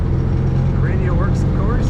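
A 1968 Volkswagen Beetle with a manual floor shift drives along, its engine giving a steady, low droning hum heard from inside the car while someone talks over it.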